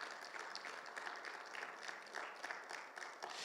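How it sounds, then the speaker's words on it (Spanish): Church congregation applauding at a Bible seminar, a steady dense wash of many hands clapping, faint and somewhat distant, with no talk over it. "¿Cuánto le dan un fuerte aplauso al Señor, por favor?"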